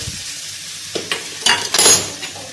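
Mutton pieces sizzling as they go into a hot pan for curry, a burst of frying hiss building over about a second, with a few utensil clinks, close and fairly loud.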